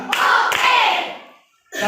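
A classroom of students clap together in a 'tepuk' routine before a lesson: a few loud, close group claps spaced apart, with a brief quiet gap before the last one, and no voices.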